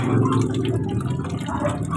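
Tap water trickles weakly from a faucet in a low, uneven dribble with soft splashing and dripping, fairly close and quiet, with no voices.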